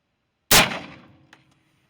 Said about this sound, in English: Then we will flip the block around and shoot the other side.